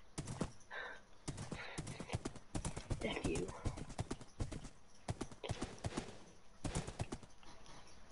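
Horse hooves clip-clopping in the Minecraft video game, a quick run of light hoof clops heard behind near-constant talking from players.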